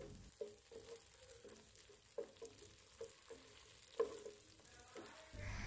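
Onions sizzle quietly in a hot pan, with a soft steady crackle and occasional clinks of a spoon stirring.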